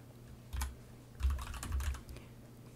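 Clicks and clatter of typing on a computer keyboard, a few separate key taps followed by a faster burst of keystrokes, close and fairly clear with no talking.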